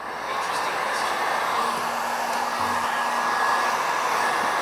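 A heat gun runs continuously close by, warming interior vinyl wrap film on the bevelled wooden edge of a round table top; a steady loud airy whir with a faint hum, no speech.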